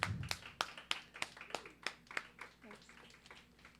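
A small open-mic crowd in a garden venue claps for an acoustic duo heading to the stage: a handful of sharp, evenly spaced claps at close range, thinning out toward the end, with a voice briefly heard underneath.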